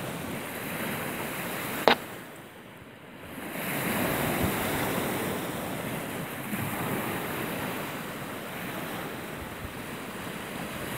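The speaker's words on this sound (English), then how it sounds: "Kind of a strong southeast wind." Strong southeast wind at the coast in Point Pelee National Park, a steady broadband roar of gusts and wind buffeting the microphone, with a sharp click early on and surf-like rushing throughout.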